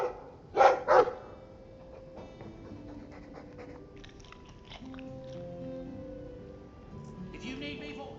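Mabari war dog from Dragon Age 2, heard as two loud, close bark-like bursts near the start, followed by quieter game ambience and faint speech-like sounds.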